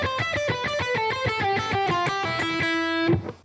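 Distorted electric guitar plays a slow descending lick from a solo, a steady run of picked notes in a triplet feel stepping downward and ending on a sustained note, with no voice.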